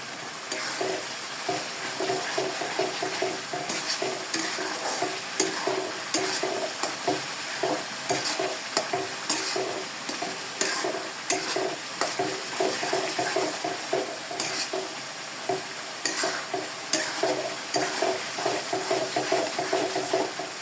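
Bombay chilies sizzle and fry in hot oil with chili powder for a chili pickle, while a spoon scrapes and stirs through the pan in a steady, rhythmic clatter close by.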